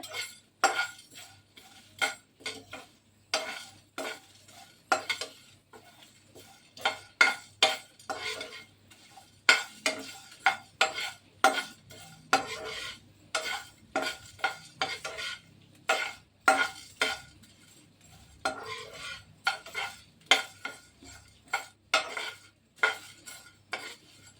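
Mutton being roasted with curry leaves in a pan for a pepper fry, a utensil scraping and clinking against the metal in a steady, repeated stirring rhythm over a faint sizzle, with no talking.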